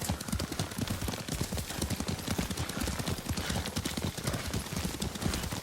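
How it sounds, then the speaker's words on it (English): Horse hooves beat in the video game Ghost of Tsushima during riding, a steady, fast clip-clop that is dense and continuous throughout against loud ambient noise. "Lord Sakai taught me to ride a horse"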